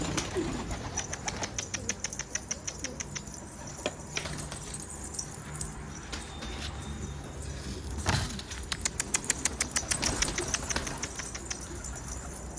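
Repeated bursts of rapid wing flapping from pigeons, rising and falling over a steady outdoor background, with occasional soft cooing and no speech.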